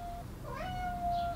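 A single cat gives a clear, drawn-out meow that rises and then holds steady, close and fairly loud over a faint background hum.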